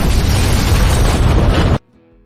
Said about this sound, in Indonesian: Dan terjadilah baku tembak di antara mereka.